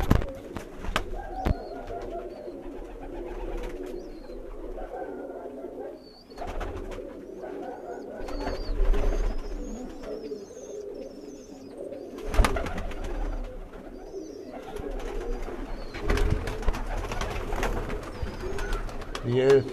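Breeder pigeons coo on a rooftop loft, with soft, repeated throaty coos in a steady, low murmur and a few sharper knocks and rustles, while faint voices come and go in the background.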